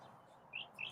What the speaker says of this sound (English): Man, Chirpy is going at it